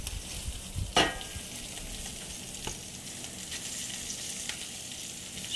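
Potatoes sizzling in a fish skillet, a soft steady frying hiss with a clatter of transfer near the start and a few faint clicks after.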